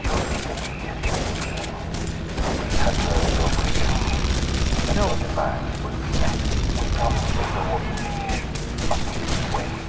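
Dense, continuous gunfire in the video game Red Faction: Guerrilla rattles throughout, with a shouted voice over the barrage.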